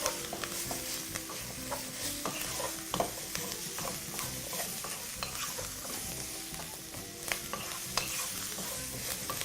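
A spoon stirs a Marrakesh-style vegetable curry in a pot. Soft scrapes and knocks come in a loose rhythm over a gentle low sizzle, fairly quiet and close, with no talking.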